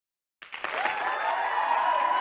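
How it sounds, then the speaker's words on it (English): Studio audience clapping, a sudden onset of dense applause that stays steady and fairly close throughout. "Okay, so they're clapping."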